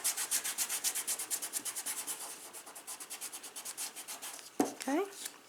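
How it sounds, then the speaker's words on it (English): Tape rubbed down firmly over fabric by hand, a fast run of repeated scratchy strokes close up, followed by a short clatter and a brief squeak near the end. "I just laid it down over my fabric and just rubbed it on."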